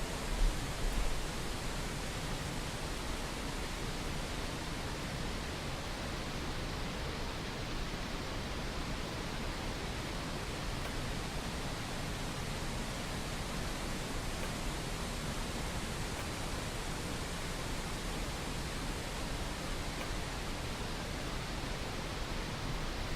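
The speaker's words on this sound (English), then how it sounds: "The noise is white noise that I'm generating because it's comforting to me." Generated white noise during a game development stream, a steady soft hiss spread evenly across the range, unbroken and faint, with no voices.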